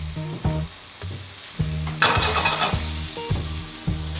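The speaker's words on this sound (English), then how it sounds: "I'm gonna add some red pepper or red capsicum and some nice red onion into that." Red pepper and red onion sizzle in a pan with seasoning while a utensil stirs and scrapes in a regular rhythm. A brief louder burst of sizzling rises in the middle, and no one speaks.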